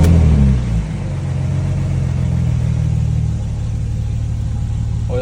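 A Porsche 997.2 Turbo S engine starts up after an oil change, a brief rising rev that settles into a steady, deep, close idle rumble with no talking.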